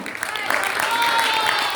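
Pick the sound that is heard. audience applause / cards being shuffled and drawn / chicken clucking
audience applause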